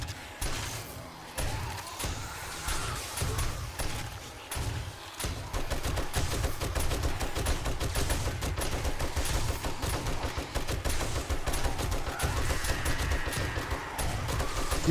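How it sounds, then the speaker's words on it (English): Shotgun turrets blasting away in 7 Days to Die, a dense, rapid stream of overlapping gunshots and thumps that keeps up steadily and grows heavier midway through, with scattered louder cracks throughout. "the shotgun turrets are still going"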